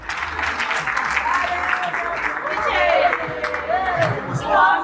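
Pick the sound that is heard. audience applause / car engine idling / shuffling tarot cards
audience applause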